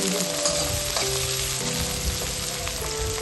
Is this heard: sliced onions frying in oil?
yes